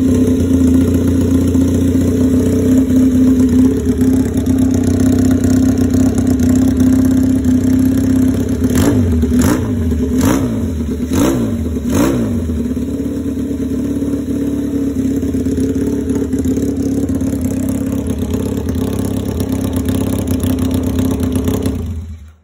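A small kick-started engine running on a temporary battery idles steadily and loudly nearby, with a few quick revs around the middle before it settles back to a steady idle.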